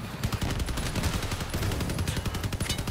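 Imperial machine guns firing in a video game: rapid, continuous automatic bursts, loud and close, several guns overlapping in a steady stuttering rattle with no pauses.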